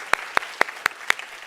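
A church congregation gathered for a sports day claps in sharp, sparse, evenly spaced single claps, about five distinct hand strikes in quick succession, fairly close and clear.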